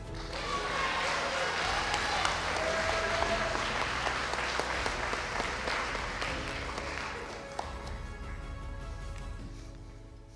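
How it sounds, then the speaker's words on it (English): Audience applause for scholarship recipients at a recognition day ceremony, sustained dense clapping across the whole stretch that slowly thins toward the end, with crowd murmur underneath. "all give our recipients another round of applause"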